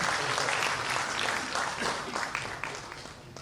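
An audience at a book release event applauds, a thick wash of clapping that starts full and gradually thins and softens toward the end.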